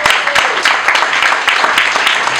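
Close, loud applause fills a graduation award ceremony in Nairobi, dense continuous hand clapping from a large audience with no break.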